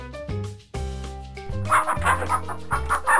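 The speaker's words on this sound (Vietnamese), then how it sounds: "Con gà trống." Farmyard chicken sounds with a rooster's sharp calls and clucks rise over a pulsing musical beat, growing louder and busier toward the end of the short clip.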